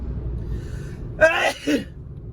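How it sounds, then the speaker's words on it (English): A single close sneeze with a sharp intake and burst, followed by a brief second exhale, over quiet background hum. "I'm gonna sneeze."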